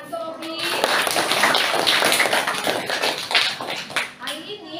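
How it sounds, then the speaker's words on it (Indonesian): A classroom of schoolchildren claps for a student, dense, close applause lasting a few seconds with children's voices mixed in before it tapers off. "Tepuk tangan untuk Robi."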